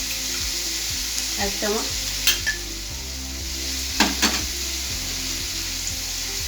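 Ginger paste with cumin and coriander powder sizzling in a pan for kachkola khoshar dalna, a raw banana peel curry. The frying hiss is steady and close, with regular stirring scrapes and a few metal clinks.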